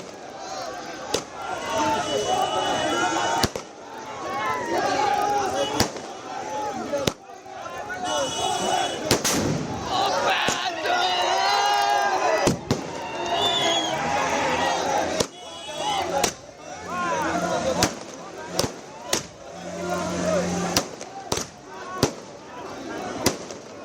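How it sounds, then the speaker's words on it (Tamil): Indian fans celebrating a cricket win over Pakistan set off firecrackers in loud, sharp bursts and rapid crackling volleys, with crowd noise and voices talking throughout. "இந்திய ரசிகர்கள் உற்சாகமாக பட்டாசு வெடித்து கொண்டாடி வரக்கூடிய காட்சிகள்"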